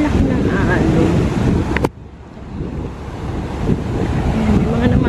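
Ocean waves surge and wash at Coolangatta Beach near a rock pool, with steady broadband roar buffeted by strong wind noise on the microphone, a sharp dip midway before the surf swells back up loud and close.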